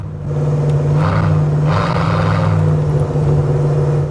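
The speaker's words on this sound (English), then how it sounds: "You do hear a little bit more motor than you do exhaust" A 1990 Chevrolet 454 SS pickup's original 454 V8 idles and revs with a steady low rumble, exhaust burble underneath and a couple of swells in intensity, close and loud.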